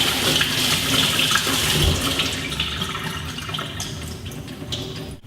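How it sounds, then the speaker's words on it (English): Cold tap water runs steadily into a kitchen sink, rinsing strained pasta shells, a continuous close splashing rush that tapers slightly near the end, with no talk. "Make sure you rinse them with cold water so they cool down faster, so it's easier to fill."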